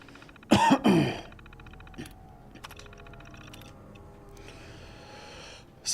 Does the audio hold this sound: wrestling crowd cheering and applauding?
no